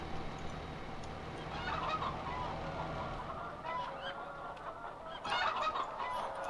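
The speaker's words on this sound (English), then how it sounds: "I want those chickens to get out." Poultry clucking in the Farming Simulator game, Green River map, with a dense chorus of bird calls over a steady background hum that swells in bursts throughout.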